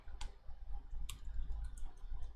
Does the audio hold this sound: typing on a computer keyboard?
yes